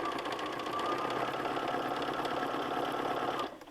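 A sewing machine stitches fabric in a fast, even mechanical whir, close and steady, then stops abruptly near the end.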